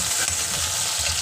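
Chopped tomato dropping into a pan of frying pumpkin curry, giving a steady, loud, close sizzle that holds for the whole moment, with no voices.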